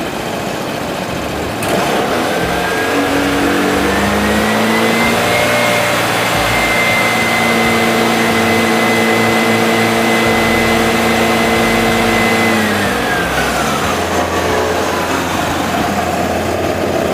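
The engine of a Vespa Primavera 150 scooter is revved with the throttle, climbing from idle to a loud, sustained high whine that holds for several seconds and then falls back, heard close with no talking.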